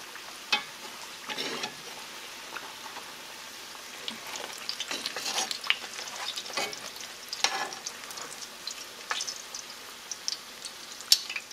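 Ground beef empanadas fry steadily in hot oil, a broad continuous sizzle broken by several sharper crackles and pops as pieces are turned, with no voices present.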